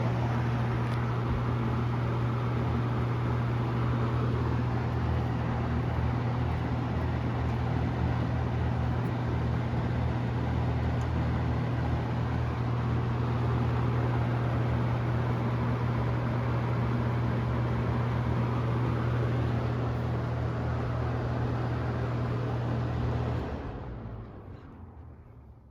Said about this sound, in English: It's just the motor making noise.